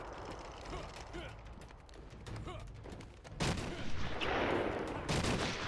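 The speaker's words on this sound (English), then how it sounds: "you could dodge sniper fire" Sniper fire in Batman: Arkham Asylum lands as scattered sharp shots, then a louder burst of blasts and impacts takes over, with a voice talking through the quieter first part.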